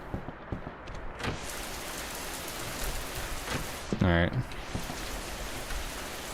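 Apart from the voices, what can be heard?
rain falling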